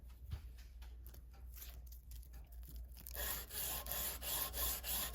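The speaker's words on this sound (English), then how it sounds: "I'll put it on this block here with the sandpaper on it." A knife blade is rubbed by hand across a sandpaper block in soft rasping strokes, faint at first, then louder and steadier scraping toward the end.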